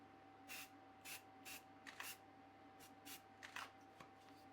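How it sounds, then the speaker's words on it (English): Short hissing bursts of a black aerosol spray can applied to a burn moulage on a manikin's arm, about a dozen quick sprays in irregular succession over a faint steady hum. "Then use your black spray and gently spray."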